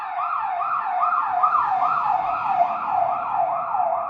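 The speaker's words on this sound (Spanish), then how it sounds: "esperen que pase la ambulancia" An ambulance siren wails in a fast, regular up-and-down yelp, loud and steady as it passes nearby, with faint traffic rumble underneath.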